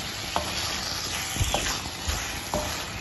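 Spiced beef curry stirred in a clay pot over a steady frying sizzle, with a few soft scrapes of the spoon at regular intervals, close up and without speech.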